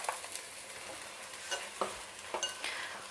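A spoon stirs quinoa lentil soup as pureed tomatoes go into the pot, giving a soft bubbling sizzle with a few scraping clinks that stand out over a steady cooking hiss, close by and with no voices.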